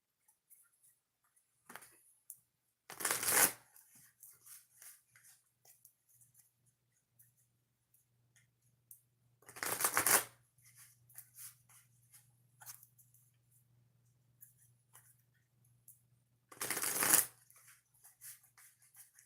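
Oracle cards being shuffled by hand in three separate bursts spaced several seconds apart, each a brisk, close riffling flutter, with quiet pauses and a faint low hum between them.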